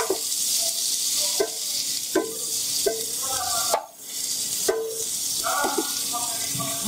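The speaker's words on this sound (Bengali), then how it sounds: "পেঁয়াজটা একটু ভাজি করে নেব, অল্প ব্রাউন নরম করে।" Onion frying in oil in a pan for a Bengali kakrol (spiny gourd) curry, a steady close sizzle broken by periodic scraping stirs and spatula knocks, with a brief lull near the middle.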